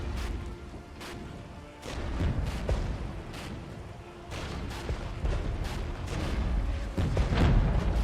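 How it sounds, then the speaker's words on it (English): Artillery booms from the Regiments war game, a run of heavy blasts and crashes landing at irregular intervals, loud and fairly close, with several overlapping impacts near the end. "I'm probably going to want to move forwards though to avoid this artillery"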